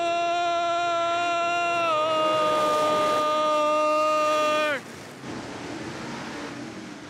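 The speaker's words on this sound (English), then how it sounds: "Let's hear those modified engines roar!" Modified race car engines scream past on a track, a loud sustained whine that holds steady then drops in pitch as the cars pass, fading into a lower roar.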